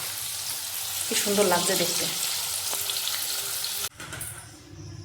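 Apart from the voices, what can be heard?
bitter gourd with salt and turmeric frying in a wok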